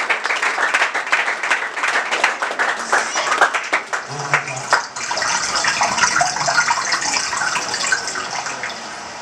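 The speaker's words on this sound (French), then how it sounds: "Nos applaudissements s'il vous plaît." A crowd breaks into sustained applause, dense clapping that swells and continues steadily for several seconds.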